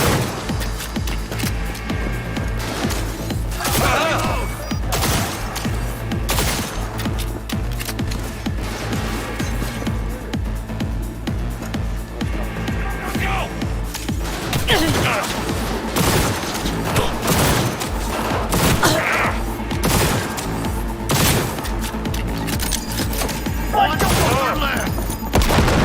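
Gunfire in the video game Cyberpunk 2077: dense, loud, continuous bursts of shots and booms fill the whole stretch, with voices shouting over the combat.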